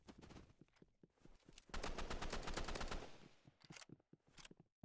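Rapid automatic gunfire from the Roblox game Rivals, a loud sustained burst in the middle with scattered single shots before and after, all fairly close.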